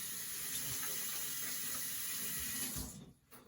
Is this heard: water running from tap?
yes